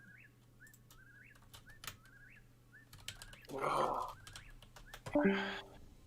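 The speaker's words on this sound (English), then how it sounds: "That was just an example of what the bird sounded like." A bird sound effect plays during a tabletop game session: a string of short, repeated rising chirps, then two louder bursts of fluttering, like wings flapping. A voice makes a brief exclamation.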